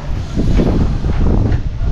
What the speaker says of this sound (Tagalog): malakas hangin dito na ulan.